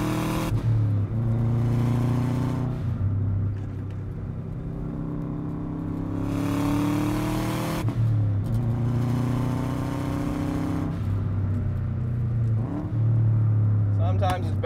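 Subaru Forester STi Type-M engine revving hard while driving at speed, rising and falling in strong surges across the whole stretch, loud and close, with a voice speaking over it.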